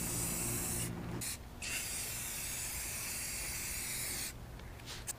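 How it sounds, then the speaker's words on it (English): Clear coat paint sprayed onto a custom motorcycle dirt bike frame, a steady loud aerosol hiss with two short breaks near the start and another pause near the end. "But let's go ahead and do the clear."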